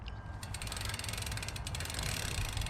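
Freewheel hub of a Mavic Cross One mountain bike wheel ratcheting: a fast, fine clicking pawl buzz, close and fairly quiet, running continuously with slight mechanical creaks.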